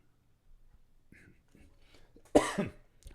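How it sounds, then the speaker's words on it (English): A single close cough bursts out after near silence, followed by a short second rasp, with faint rustling before it. "So if you hear me coughing, I am very sorry."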